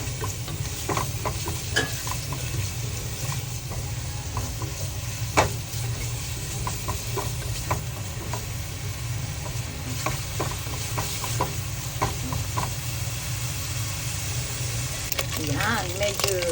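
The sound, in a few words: bacon sautéing in a pan for shrimp chowder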